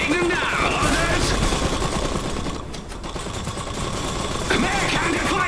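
In the dieselpunk strategy game Iron Harvest, dense gunfire strikes a mech: a steady, loud wall of rattling shots and impacts, briefly thinning midway before surging again.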